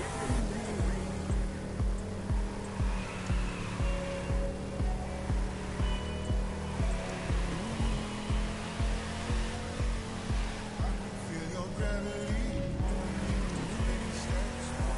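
A 1967 Fastback drifting in The Crew, its engine droning steadily at high revs with a sustained, wavering tire hiss throughout, loud and continuous with no pauses.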